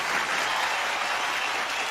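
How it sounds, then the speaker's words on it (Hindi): Audience applause at a Kapil Sharma comedy show, a dense, steady wash of clapping from a large crowd, loud and continuous throughout. "मैं चाहूंगा कि इन सब लेजेंड्स के लिए एक बार जोरदार तालियां"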